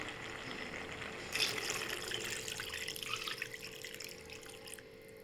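Water streams steadily into a cooking pot of pork curry, starting abruptly and running continuously for several seconds with a splashy, bright hiss.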